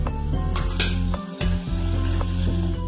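Onions and ginger sizzle in hot oil in a pan for a spicy ginger chicken dish, with a loud, steady frying hiss and a few scraping stirs, close up and with no talk.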